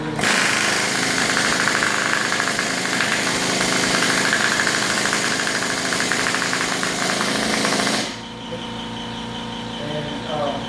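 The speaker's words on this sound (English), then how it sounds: "I'm putting the air hammer on the fitting itself because the fitting is stronger than the pipe itself" An air hammer rattles in a loud, continuous rapid burst against a metal fitting on an oxygen concentrator sieve canister, then cuts off abruptly, leaving a quieter hum.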